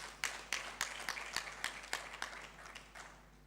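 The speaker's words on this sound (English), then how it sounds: "Let's give them a round of applause." Audience applause at a project launch, a faint, sparse patter of hands clapping for a few seconds and then thinning out, heard from a distance.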